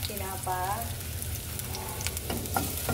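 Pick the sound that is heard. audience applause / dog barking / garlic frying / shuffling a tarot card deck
garlic frying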